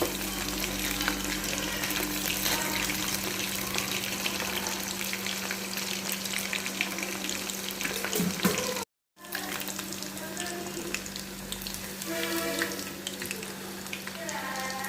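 Chicken 65 fries in a pan as the pieces are turned, giving a loud, steady sizzle with stirring scrapes throughout and one brief dropout.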